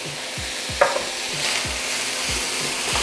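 Frozen shallots fry with sausage in a pan, a steady close sizzle under rhythmic spoon stirs that land roughly every half second.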